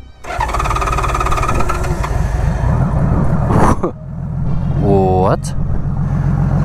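A 1999 Honda Valkyrie F6C flat-six motorcycle fires up and settles into a loud, close, steady low idle, with a couple of brief revs that rise and fall in pitch and a short spoken exclamation.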